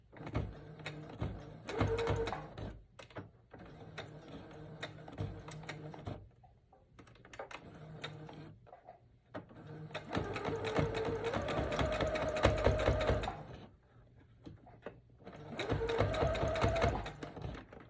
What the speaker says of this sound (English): we're gonna sew, making sure the back stitch